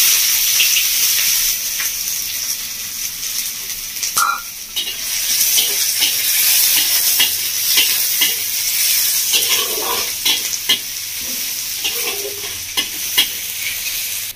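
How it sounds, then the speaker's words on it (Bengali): Chopped onions, two medium ones, dropped into hot oil with fried whole spices for village-style chicken ghugni, giving a steady, dense sizzle with scraping stirs throughout, close and fairly loud, with no voices. "ফোড়নটা ভাজা হয়ে গেছে, এর মধ্যে দিয়ে দিচ্ছি পেঁয়াজের কুচি"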